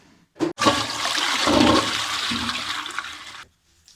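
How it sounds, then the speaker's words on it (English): A toilet flushes with a loud rush of water that swells, roars steadily for about three seconds, then cuts off abruptly into quiet; no one speaks. "Now, I need to flush."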